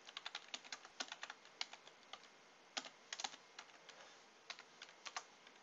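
A command is typed on a computer keyboard while setting up a Cisco router: quick, faint key clicks arrive in irregular bursts with short pauses, close by and without speech.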